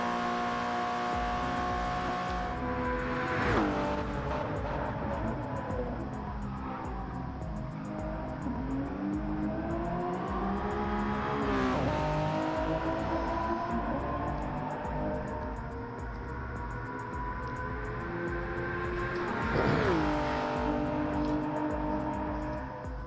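A Toyota GR010 hypercar laps the track in a Le Mans racing game: a continuous, buzzy engine drone with rising and falling revs and several sharp pitch sweeps, loud and steady throughout with no speech.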